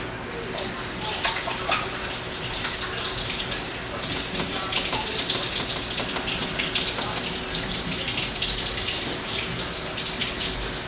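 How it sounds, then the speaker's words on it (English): Tap water runs steadily into a kitchen sink while hands are washed, a continuous close splashing hiss with small splatter changes throughout, no clear speech. "what I'm gonna do now is go wash my hands"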